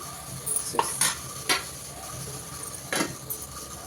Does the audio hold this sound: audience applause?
no